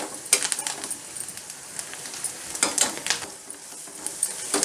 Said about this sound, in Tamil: இதையும் இதோடு சேர்த்து வதக்கிடுவோம். இது வதங்கட்டும் நல்லா.